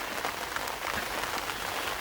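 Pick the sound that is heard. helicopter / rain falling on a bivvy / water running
rain falling on a bivvy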